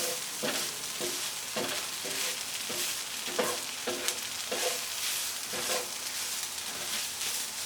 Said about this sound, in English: Let's get everything stirred.